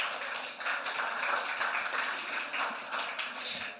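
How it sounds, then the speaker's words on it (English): Audience applause at a COP28 climate justice panel session: a dense, steady round of clapping that holds at an even, moderate level for several seconds, with no voices over it. "Please give a round of applause for Christel Prat."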